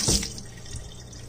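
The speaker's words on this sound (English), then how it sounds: "Give my knife a little rinse." Kitchen tap water splashes briefly as a knife is rinsed, a short close burst of running water that fades into a quieter trickle within about a second.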